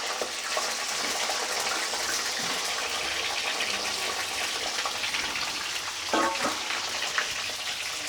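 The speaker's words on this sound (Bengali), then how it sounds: "একদম নুন দিয়ে ডিমটা ভাজছি" An egg fries in a pan with salt, a steady broadband sizzle running the whole time with a brief clatter of stirring near the end, close and fairly quiet.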